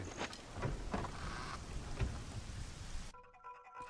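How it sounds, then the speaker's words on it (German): Steady rain falls inside a dungeon in the Ocarina of Time video game, a continuous close hiss with a few heavier drops, cutting to a quieter tonal passage near the end. "Außer, dass es jetzt im Dungeon regnet."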